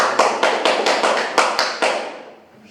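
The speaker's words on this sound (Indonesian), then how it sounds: "Aplaus untuk Rio." Students in a classroom clap for a classmate in a brief, fairly loud round of about nine crisp, evenly spaced claps that then fade out.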